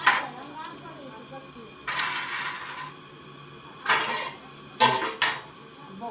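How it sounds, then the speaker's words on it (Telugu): Soaked rice added to a hot cooking pot for pulao, giving a few short bursts of rattling, sizzling pour and metal utensil clatter against the pot, fairly close. "నానబెట్టిన బియ్యాన్ని వేసేసుకున్నాం."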